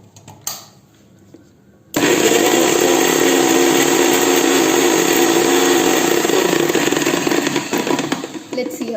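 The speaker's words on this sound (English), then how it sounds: "Okay, now let's grind it." A mixer grinder blending ginger and garlic into paste starts up after a short pause with a few faint sounds, then runs as a loud, steady, high motor whir with grinding inside the jar, continuous and close.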